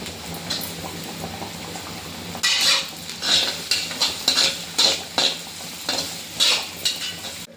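Ginger frying in coconut oil in a pan, stirred so it wilts and browns; a steady sizzle runs throughout while a spoon scrapes and clinks against the pan in repeated strokes, close and fairly loud.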